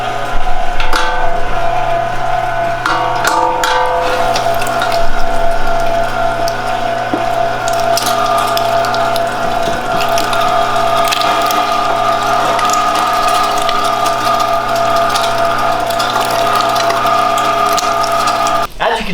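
A Cabela's Carnivore electric meat grinder working through venison loin and pork, a loud steady mechanical whir with gear hum and rattling clicks as chunks feed through, continuous for nearly twenty seconds with no talk.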